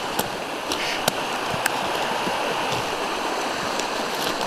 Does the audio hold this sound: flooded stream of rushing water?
yes